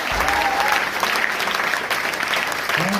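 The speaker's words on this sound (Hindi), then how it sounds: "जोरदार ताली बजाओ इसके लिए।" An audience at a career training session applauds loudly and continuously, a dense wash of clapping from start to end with faint voices mixed in.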